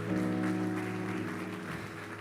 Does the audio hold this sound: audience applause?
yes